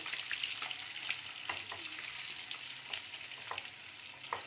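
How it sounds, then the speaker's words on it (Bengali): Eggs frying in oil in a pan for a dhaba-style egg curry: a continuous close, bright sizzle with small crackles and occasional stirring, steady throughout and without any talking. "ডিমগুলোকে কিছুক্ষণ আমি ভালো করে একটু ভেজে নেব।"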